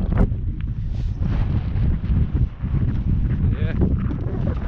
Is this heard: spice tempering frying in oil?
no